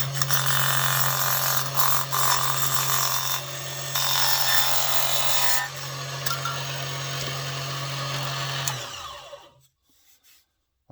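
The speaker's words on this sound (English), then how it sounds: "I'm going to do a rip cut. That's cutting with the grain long ways." A Huanyu mini table saw with a carbide-tipped blade rips lengthwise along the grain of balsa wood, a steady high motor whine with a low hum that runs for several seconds, then spins down into silence.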